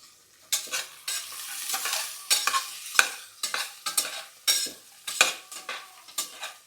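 Spoon stirring peas and potatoes through spiced masala rice in a pan, with repeated scraping strokes in an irregular rhythm, a faint sizzle underneath and occasional clinks of utensil on metal, close and moderately loud.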